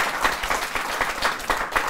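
A studio audience applauds steadily at a Buddhist Q&A talk show, the dense clapping filling the whole stretch at moderate loudness with no voices over it.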